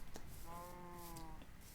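A Minecraft cow gives one faint, drawn-out, tonal moo lasting about a second, set over quiet background noise in a video game.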